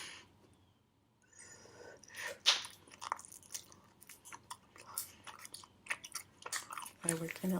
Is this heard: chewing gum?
yes